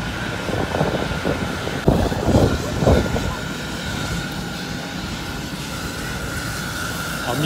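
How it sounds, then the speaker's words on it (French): Cabin noise inside an airliner: a steady, loud engine and air roar fills the space, with a constant hum and some brief rustling and bumps near the seat. No one speaks. "je suis bien dans l'avion."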